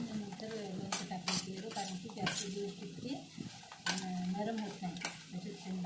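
Dried raw mango pickle with whole garlic cloves is stirred in a vessel, with repeated scraping and clinking of a spoon in an uneven rhythm, quiet and close, and a faint voice in the background.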